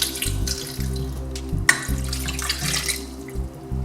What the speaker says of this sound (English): Then he's going to add a glass of water.